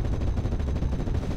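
Continuous rumbling barrage of artillery and gunfire in the World War II strategy game Steel Division Normandy 44, a dense low roar of overlapping impacts without distinct separate blasts.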